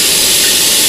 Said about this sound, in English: So we're going to open that pretty wide and let that liquid start coming out